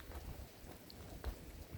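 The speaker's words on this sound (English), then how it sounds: "Now it's raining, GPT." Rain falls steadily with soft patter and low rumbling, faint and diffuse with no voices.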